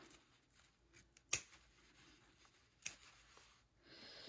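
Scissors snip off the excess end of a fabric zipper during fly topstitching, giving two sharp, close clicks about a second and a half apart against a quiet room.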